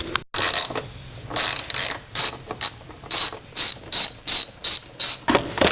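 Ratchet wrench loosening 10mm bolts on a BMW X5, a close, steady run of rapid clicking in bursts with short pauses between strokes.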